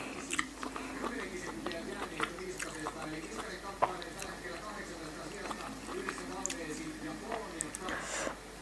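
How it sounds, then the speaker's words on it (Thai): Vietnamese pork sausage (moo yor) in a spicy salad is chewed close to the mic, a steady run of soft, wet crunches and bites over several seconds. "เสียงเคี้ยวหมูยอกรึกรอกรึกรอก"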